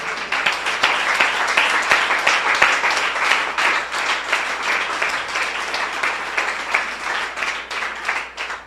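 A church congregation claps together in sustained, dense applause, loud and steady throughout with no talking over it.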